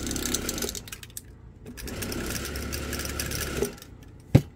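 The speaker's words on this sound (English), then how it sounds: "You can really hear the marble working its way in there." A paint shaker mixer rattles a spray can with a marble inside, giving a steady, fast mechanical clatter that runs throughout and ends in a sharp knock.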